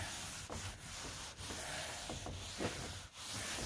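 Cloth wiping finish across a reclaimed American chestnut wood tabletop, a steady close scrubbing and rubbing with a few brief pauses between strokes.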